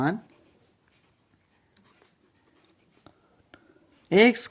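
A pen scratches across paper in short, faint strokes while a math equation is worked by hand, close and quiet in a near-silent room, with speech at the very start and end.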